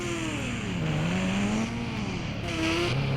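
A motorcycle engine runs close by in a steady, continuous drone, its pitch sliding up and down slightly as the throttle shifts, with no talking.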